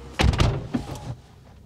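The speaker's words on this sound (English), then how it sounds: "Just shut your door." A BMW M135i car door is shut with a solid, close thunk followed by a softer second knock, then the cabin falls quiet.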